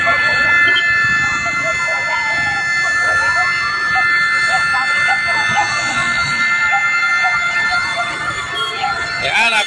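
Loud wailing sirens rise and fall continuously as fire trucks arrive at a fire in Tondo, Manila, overlapping into a dense chorus with Filipino voices and crowd noise underneath.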